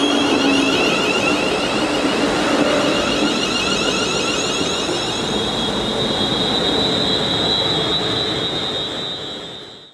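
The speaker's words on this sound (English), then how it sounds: "passenger services are provided by Class 350 electric multiple units." Class 350 electric multiple unit train passing through Garston station on the Abbey Line, a steady loud rumble of wheels and traction with a high whining tone, fading at the end.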